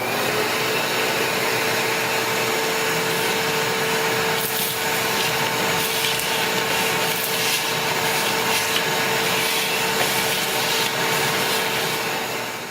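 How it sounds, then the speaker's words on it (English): Vacuum cleaner fitted with a hose attachment, cleaning inside a church meetinghouse, drones steadily and loudly throughout with a constant motor whine and some rubbing, scraping noise as the attachment moves. "use the attachment on the vacuum so that if there's anything big, like a sacrament cup, it won't come up and clog up your vacuum"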